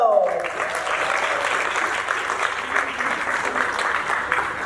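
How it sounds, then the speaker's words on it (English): Sustained applause from a conference hall audience at a Rotary District Conference in Diani, many hands clapping in an even, dense roar, with a voice trailing off at the very start. "Ladies and gentlemen, a round of applause for Andrew Kipto."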